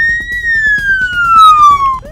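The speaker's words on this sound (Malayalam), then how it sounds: "ഈ സൈറൻ കേട്ടാൽ നമ്മൾ മനസ്സിലാക്കേണ്ടത് ആംബുലൻസിന് പോകാൻ വഴി നൽകണമെന്നതാണ്" An ambulance siren sounds loud and close, a continuous high tone gliding slowly downward with strong harmonics, over a rumbling road-traffic background.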